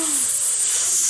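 Hissing sizzle as a rope touches the edge of molten lava, a steady broad high-pitched hiss holding for about a second with a faint falling tone at the start.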